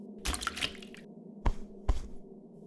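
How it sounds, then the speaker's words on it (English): A cloth dipped and wrung in a cool bucket of water gives a wet, sloshing squish, then two short drippy splashes follow, close and quiet with no talking. "I have a cool bucket of water and a cloth."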